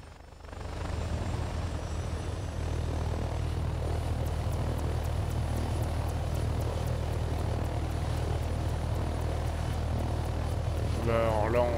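A helicopter in a flight training game drones with a steady low rotor thrum and whine while hovering to lift a load, loud and constant throughout, with a brief voice near the end.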